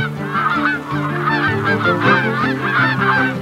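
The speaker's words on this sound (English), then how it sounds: "Giant Canada geese, once endangered here, are back." A flock of giant Canada geese in Missouri honks loudly and continuously, overlapping calls crowding together close by with no pauses.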